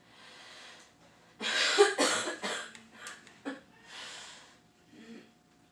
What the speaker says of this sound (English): I get really dizzy after a coughing fit